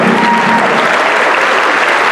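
Steady, dense applause fills the room as an audience at an ASEAN Young Leaders Summit welcomes the ASEAN delegates, loud and continuous throughout with no break.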